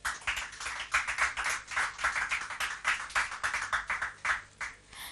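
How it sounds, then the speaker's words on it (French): Studio audience applause on a French-language TV quiz game show, steady rhythmic clapping at moderate level with pulsing bursts, no talk over it. "Sous vos applaudissements."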